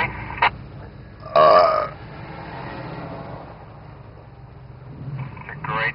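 A loud burp from a performer on a 1984 outdoor film set, bursting out between casual talk and background traffic rumble.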